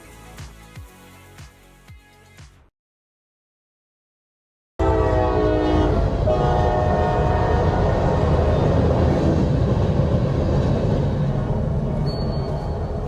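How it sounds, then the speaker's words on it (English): After a brief silence, a train rumbles loudly past nearby with a continuous roar and a short horn note near the end. "now that that train's passed through, maybe I can keep talking"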